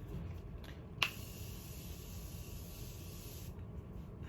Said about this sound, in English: I'm loving this setting spray.